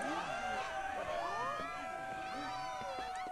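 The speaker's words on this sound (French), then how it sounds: "L'animation de la foule" A video game crowd in Kingdom Hearts II cheers and murmurs under looping music, with overlapping voices at a steady, moderate level.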